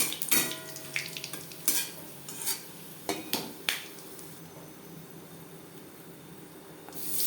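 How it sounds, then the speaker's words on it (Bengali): Panch phoron and bay leaves sizzle in hot oil in a kadai used earlier for frying fish, with sharp spoon scrapes and clanks against the pan over a steady soft hiss. "মাছ ভেজে নেওয়া কড়াইতে আবারও তেল দিয়েছি দিয়ে দিলাম পাঁচ ফোড়ন তেজপাতা"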